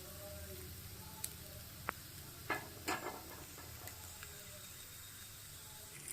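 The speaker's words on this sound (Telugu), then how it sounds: "ఇప్పుడు పప్పు వేసుకుని దీన్ని కొద్దిగా ఫ్రై కానిద్దాం" Moong dal frying in a pan with fenugreek leaves, a faint low sizzle with a few soft stirring clicks and scrapes, otherwise quiet.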